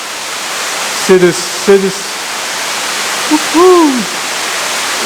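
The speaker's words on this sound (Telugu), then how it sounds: "ఇది హోటల్లోనే ఆర్టిఫిషియల్ వాటర్ ఫాల్ ఒకటి సెట్ చేస్తారు వీళ్ళు." Steady broadband rush of an artificial waterfall inside a hotel in Munnar, constant throughout, with brief voices and a short tonal whistle or call over the flowing water.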